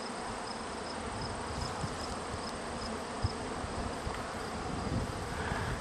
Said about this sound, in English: What the fuck are all these bees out here for in the middle of nowhere?